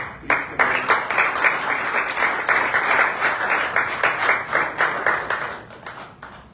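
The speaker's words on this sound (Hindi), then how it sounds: "आपकी भरपूर तालियों में खुदा के कलाम के लिए हम ताली बजाएंगे" A church congregation applauds during a Sunday worship service in Dubai, a dense, steady wash of many hands clapping that fills the room, loud and continuous throughout before easing slightly at the end.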